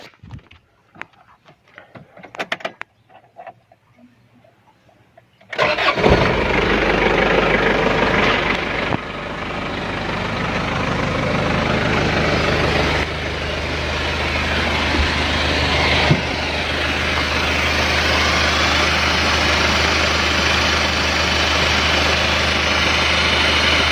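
An old 2.5-litre diesel engine turns over and catches after a few quiet seconds, then settles into a loud, steady idle that runs on close by.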